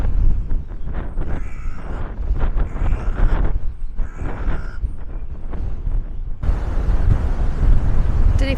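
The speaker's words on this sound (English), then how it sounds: "Don't know if you can hear how bad the wind is." Strong gusting wind on an exposed Dorset beach buffets the microphone with loud, continuous low roaring and rumble, surging in waves and growing harsher toward the end, with no clear voice.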